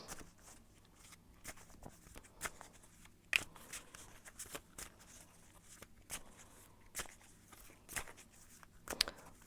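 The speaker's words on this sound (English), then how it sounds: "I'm going to shuffle a little bit more about your career" Tarot cards being shuffled by hand, soft scattered riffles and taps across the whole stretch, quiet and close, with no talking.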